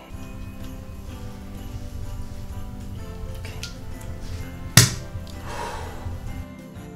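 A 1996 Collavini Italian sparkling wine bottle, aged 26 years, is popped open while standing: one sharp cork pop over a quiet room hum, followed by a soft fizzing hiss.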